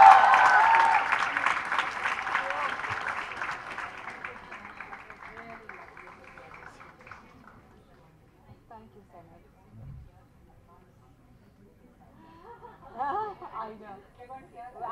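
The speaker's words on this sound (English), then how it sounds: "huge round of applause for Sania" Applause for Sania Mirza at a song launch event, loud clapping at the start that fades away over several seconds, followed by quiet chatter and laughter from the crowd.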